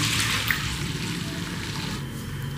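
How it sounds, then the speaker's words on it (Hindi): Cooking water poured off boiled black chickpeas into another pot, a steady, continuous rushing pour heard close up and alone throughout. "चने अलहदा और पानी मैंने अलहदा कर लिए।"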